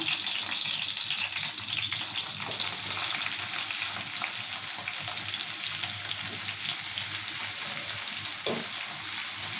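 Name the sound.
onions and chillies frying in oil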